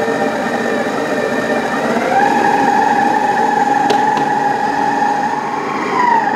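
Electric mixer whirring steadily at low speed while mixing batter, a continuous motor hum that steps up slightly in pitch partway through, with a faint tap near the end.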